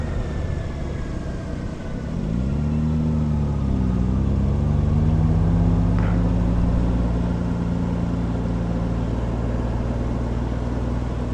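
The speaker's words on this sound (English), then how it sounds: "Bet you that's a fun car to run around in, that RX-7." A Mazda RX-7 drives a mountain loop near the Garden of the Gods, its engine note rising and settling into a steady, fairly loud drone that holds throughout, with no voices.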